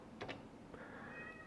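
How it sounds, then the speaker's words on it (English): A house cat gives a short, faint meow, a brief two-part call early on followed by a softer rising cry, heard against a quiet room background. "that's my cat again"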